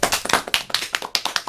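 Audience applause at a sports event company alumni interview, a short burst of brisk close hand claps from a small group.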